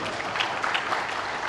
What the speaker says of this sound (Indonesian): Tepuk tangan buat Pak Joko.